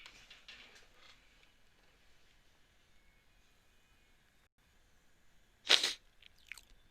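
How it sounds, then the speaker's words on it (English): A single sharp sneeze bursts out near the end of an otherwise quiet stretch with faint background noise. "sorry about that, I sneezed"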